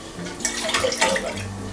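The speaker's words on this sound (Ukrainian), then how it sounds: "В кастрюлі об'єдную молоко та воду," Milk and water pour into a kitchen pot as a close, splashy liquid stream with some gurgling variation and a faint hum underneath, and no one speaks.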